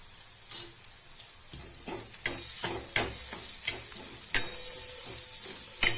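A ginger, garlic, green chilli and coriander paste fries in oil in a pan for methi bhaji, a soft sizzle broken by repeated scraping strokes of a spatula against the pan, close and fairly quiet, with no talking.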